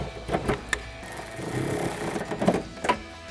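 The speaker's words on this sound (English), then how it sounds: "take a 10mm socket to tighten that down" A 10mm socket tightening a nut onto a stud while fitting a rear spoiler to a 2024-2025 Mustang, with a few short ratcheting clicks and mechanical whirring at close range.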